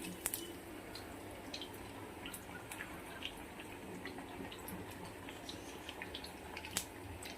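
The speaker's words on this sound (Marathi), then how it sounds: "हे आपलं तळायचं काम चाललेलं आहे." Rice pakoda frying in oil makes a quiet, steady sizzle dotted with small sharp pops and crackles scattered across the whole stretch.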